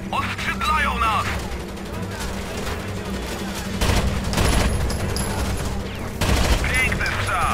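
Rapid bursts of gunfire in Tom Clancy's Rainbow Six Vegas crackle and pop continuously in a hectic exchange, with heavier volleys mixed in and voices talking over the shooting.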